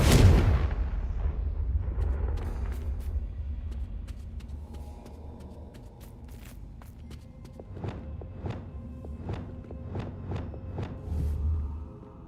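A Confringo blasting spell explodes in the Hogwarts Legacy video game, a heavy booming burst at the start that decays into a low rumble. Scattered sharp ticks and thuds follow at irregular intervals.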